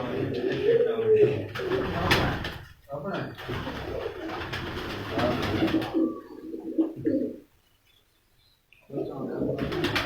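Shy (sharmila) pigeons on a rooftop coo softly beneath a man's continuous speech, the soft calls mostly masked by talking before a brief quiet gap.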